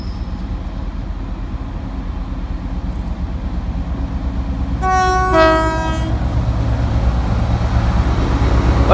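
A train on a West Yorkshire railway line near a station gives a steady low rumble, and a loud horn blast rings out for about a second partway through.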